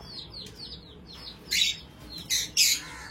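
Several caged birds give short chirps and squawks, with three louder bright calls standing out against a quiet room background; no one speaks.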